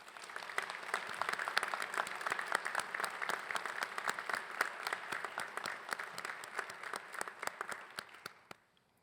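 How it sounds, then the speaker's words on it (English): A crowd at a Greensboro police academy graduation claps in sustained, dense applause, steady for several seconds before thinning out and fading to silence at the end. "Please join me in giving these individuals a well-deserved round of applause"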